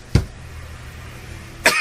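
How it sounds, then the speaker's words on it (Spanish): Two sharp single coughs from a person giving a talk, one early and one near the end, close and abrupt with quiet room tone between them. "me disculpan por esta tos"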